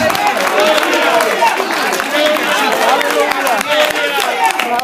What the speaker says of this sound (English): clap your hands and holler hallelujah